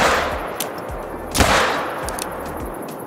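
Rifle shots fired at a rhino in the hunting game Call of the Wild, two sharp, loud cracks about a second apart over a steady wash of background noise.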